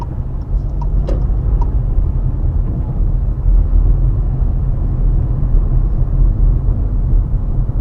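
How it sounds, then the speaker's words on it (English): A car engine rumbles low and steady from inside the cabin as it pulls away on a hill start during a driving test route in Chesterfield, a continuous, heavy drone with no speech. "So plenty of gas as we release the handbrake."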